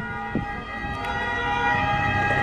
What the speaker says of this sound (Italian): stanno arrivando, sentite le sirene?